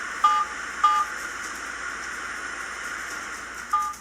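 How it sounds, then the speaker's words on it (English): Short electronic touch-tone beeps from a phone dialing a number, three brief tones, two close together near the start and one near the end, over a steady hiss with no talking. "this phone apparently waits until Michael is almost finished recording and then hits a completely different number"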